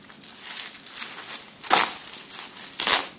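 A plastic freezer bag is torn off a roll, two short, sharp crinkling rips against quiet handling noise.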